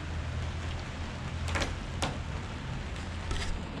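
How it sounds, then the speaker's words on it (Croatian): Rain falls steadily around a truck on a cold late-August morning, a faint, constant hiss with a few brief knocks and rustles standing out from the wash. "kiša pada, a ja nemam kačketa"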